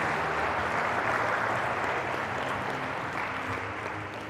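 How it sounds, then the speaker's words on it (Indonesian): Audience at a motivational session in an Islamic school hall gives steady applause, a thick continuous patter of many hands clapping that fades slightly toward the end. "Boleh tepuk tangan buat John Stephen."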